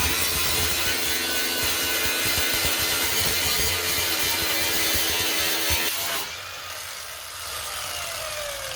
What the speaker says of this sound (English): we should be able to just grind it pretty flat